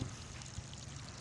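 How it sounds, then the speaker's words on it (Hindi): Water poured into a mortar mix, a short soft splashing pour that stays low and close with no voices over it. "ये गारा बन रहा है, ये पानी डल रहा है"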